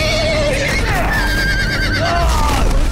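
A horse whinnies loudly with wavering high cries over a dense, continuous background of rumbling noise and hoof sounds in the video game Game of Thrones.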